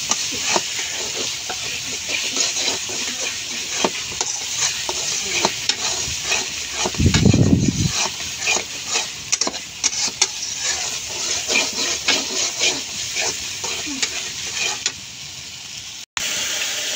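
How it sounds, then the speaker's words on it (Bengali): Spices fry and get stirred in a wok for mango pickle, a steady close sizzle with repeated scraping strokes and one louder burst of hissing midway. "এখন আমি সব মশলাগুলো সুন্দর করে ভুনা করে নিচ্ছি।"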